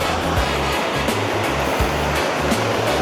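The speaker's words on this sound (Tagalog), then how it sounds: "malakas ang ampas ng alon dito" Ocean waves surge and crash against the rock formations of Tallag Beach in Gonzaga, Cagayan, in a constant roaring wash, loud and close, with a low pulsing rhythm underneath.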